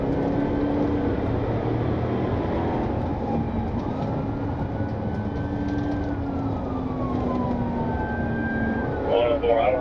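A police car siren wails during a vehicle pursuit of a stolen box truck, a loud sustained sweeping tone over heavy road and engine rumble, with radio chatter in the background.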